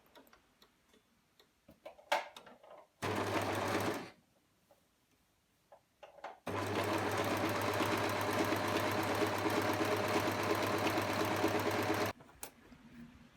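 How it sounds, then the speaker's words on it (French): Sewing machine running a zigzag or overlock stitch on fabric for a tunic, a short burst followed by a long steady run of fast rhythmic ticking, close and loud, with quiet handling sounds between. "On zigzague ou on surjette séparément."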